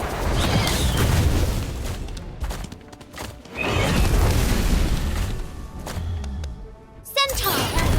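The Expulso explosion spell bursts in Harry Potter: Magic Awakened, a magic card battle game. Several heavy booming blasts are spaced a few seconds apart among busy game effects.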